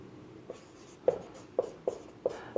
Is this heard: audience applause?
no